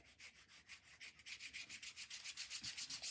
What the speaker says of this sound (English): my rubbing is taking off some of the clear gesso